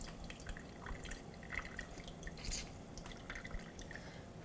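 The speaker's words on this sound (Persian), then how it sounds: "حالا یک کمی هم آب لیموی تازه" Fresh lemon juice drips into a pot while cooking barberry rice with chicken, a close run of small irregular droplet splashes against a soft background hiss.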